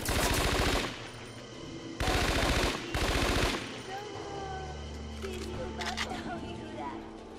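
Gunfire from the video game Scarface: The World Is Yours on PS2, with loud bursts of rapid shots at the start and again midway, then quieter game ambience and someone speaking.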